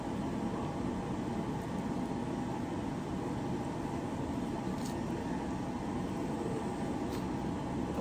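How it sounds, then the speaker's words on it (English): An electric fan running in a kitchen after bacon was fried, a steady broadband whoosh of moving air with a low hum, constant in level throughout, with no talking. "Sorry about that fan. I had that on because I was frying bacon before."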